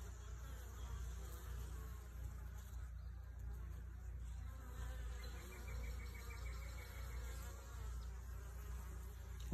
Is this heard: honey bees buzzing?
yes